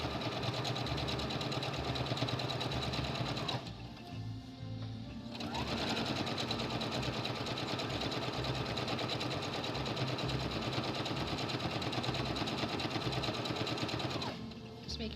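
A sewing machine stitches fabric for a beginner's tote bag, whirring steadily and loudly up close, pausing briefly about a third of the way in, then running on before stopping near the end.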